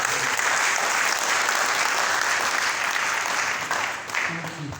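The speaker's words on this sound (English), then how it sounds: "Can we just give them a round of applause?" An audience claps steadily for a hosting group at an event in Bauchi, a dense, moderately loud applause that holds for several seconds before easing slightly at the end.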